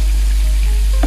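A whole zander, seasoned with salt, pepper, thyme and garlic, fries on the bone in a hot pan, giving a loud, close, unbroken sizzle with faint crackles.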